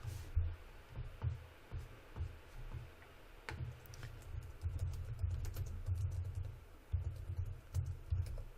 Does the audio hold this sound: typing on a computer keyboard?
yes